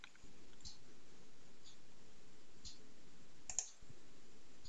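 Computer mouse clicks while signing in to an IoT dashboard platform: a handful of sharp, close, isolated clicks spaced irregularly over a quiet room background, with no speech.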